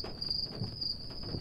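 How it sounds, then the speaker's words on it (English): Crickets chirp at night in a steady high-pitched trill, close and continuous, with faint low rustling beneath. "Crickets announce the night,"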